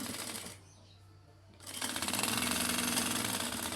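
Sewing machine stitching a tack on girls' shorts: a short burst of rapid stitching, a brief pause, then a longer, louder run of fast mechanical clatter nearby.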